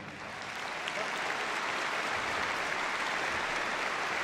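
Sustained audience applause fills the hall after a police dog display by the West Midlands Police Dog Unit at Crufts 2013, a dense, even wash of clapping that holds steady for several seconds without any talk over it.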